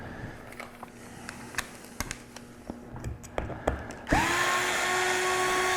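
A screwdriver working at screws on an Axial Wrangler RC wheel, with scattered small clicks and taps, then a loud, steady power-driver whir that holds to the end.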